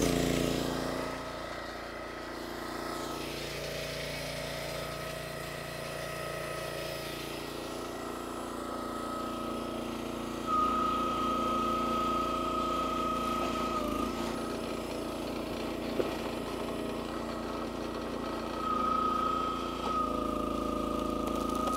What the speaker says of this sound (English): fire up the motor, and get into it.